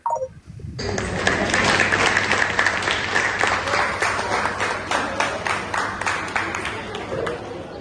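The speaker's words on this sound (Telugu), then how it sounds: "చప్పట్లు కొడుతున్నావు." A crowd applauds at a college farewell event with loud, dense clapping that starts suddenly and keeps going steadily, with voices mixed in beneath it.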